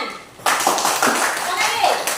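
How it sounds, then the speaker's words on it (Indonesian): Classroom applause from students, a burst of hand clapping that starts abruptly and continues steadily and fairly loud for about two seconds, with some chatter mixed in. "Tepuk tangan."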